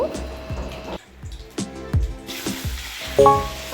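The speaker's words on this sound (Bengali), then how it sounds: "তেলটা গরম হয়ে গেছে, তেলের মধ্যে দিয়ে দেব কালো জিরে, দিয়ে বেগুন দিয়ে দেব" Nigella seeds and eggplant hit hot mustard oil in a pan, crackling and sizzling close up in uneven bursts, with a few brief tonal sounds layered over the frying.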